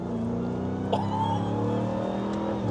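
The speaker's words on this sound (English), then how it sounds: "you rarely ever see a supercharger anymore, let alone have one that loud" A 2025 RAM TRX Final Edition truck's loud engine drones and revs with a high supercharger whine rising over it, continuous for a few seconds with no voices.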